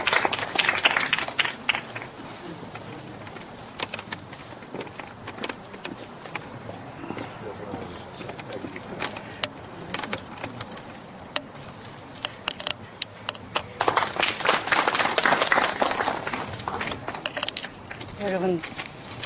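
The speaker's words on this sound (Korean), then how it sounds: "박수를 좀 맞이해 주시기 바랍니다" Audience applause at a literary award ceremony, the 23rd Pyeonun Literary Prize, rising in two bursts of dense clapping at the start and again near the end, with quieter scattered clapping and murmuring between.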